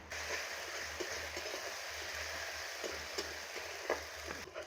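Spiced banana stem frying in oil, a soft continuous sizzle with faint stirring scrapes, fairly quiet and steady, with no voices.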